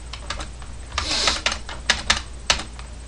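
Keystrokes on a computer keyboard while copying and pasting a MySQL command: a close, crisp run of about eight separate clicks in an uneven rhythm, with a brief cluster of rapid taps near the start.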